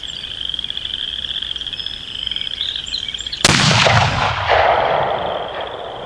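A single rifle shot from a Savage Axis II in .30-06 outdoors, one sharp loud crack with a lingering rumbling echo, set against a constant chorus of frogs croaking nearby.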